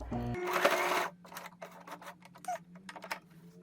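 A sewing machine stitches along the edge of a shirt pocket, a close mechanical whir of rapid stitching that stops and starts in short bursts as the fabric is turned, with light clicks and handling noises between.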